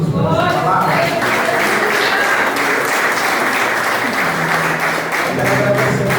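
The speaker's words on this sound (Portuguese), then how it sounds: "Você pode aplaudir a Jesus por essa palavra?" A church congregation at a missions service applauds loudly and continuously. Voices and musical tones sound under the clapping, and the clapping swells again near the end.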